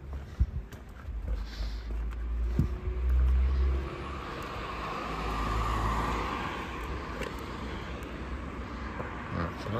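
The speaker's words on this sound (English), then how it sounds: "we're approaching Nuthurst Road, where that big lorry is." A big lorry and other road traffic pass along Nuthurst Road in New Moston, Manchester, a steady low rumble that swells and fades, with no talk.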